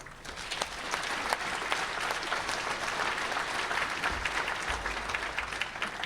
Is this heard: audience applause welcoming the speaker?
yes